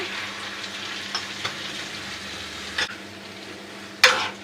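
Beef frying and being stirred in a hot pan with aromatics, a steady close sizzle broken by occasional scraping clacks of the utensil, with one sharper clatter near the end.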